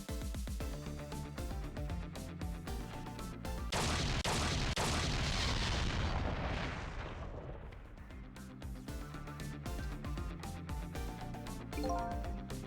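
An explosion in the video game Ghost Trick bursts through ongoing game music as a broad rumbling blast lasting a few seconds, then settles back under the steady musical backing.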